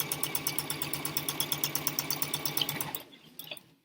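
A sewing machine runs close by, top stitching fabric for a face mask in a fast, steady rhythmic chatter of needle strokes that stops near the end, followed by a brief quiet pause.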